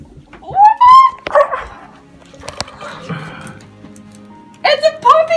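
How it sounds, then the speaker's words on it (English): A French Bulldog puppy gives a few high, thin whimpers and yips near the start and again at the end, amid excited voices and rustling nearby. "It's a puppy."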